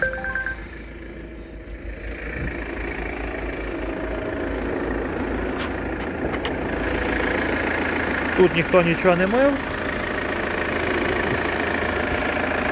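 A Volvo XC D4 diesel engine idles steadily with a rough, ticking rumble while someone talks over it nearby.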